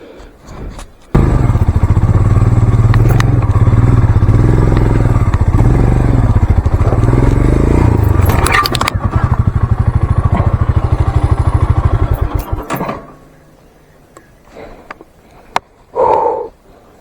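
A motorcycle engine revs hard and loud while riding off-road through mud on a Kodaikanal hill trail, a close, straining roar for about eleven seconds before cutting off to near silence with a few faint knocks.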